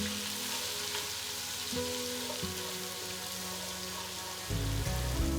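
Curry leaves and small onions sizzling in hot oil for sambar, a steady close crackle that swells into a louder, denser hiss near the end.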